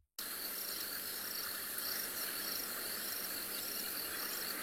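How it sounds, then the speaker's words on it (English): A dense, continuous chorus of frogs calling at night, a steady bubbling trill from many animals at once, fairly distant. "The sound of the bubbling casino frogs is one of my favourite sounds of summer."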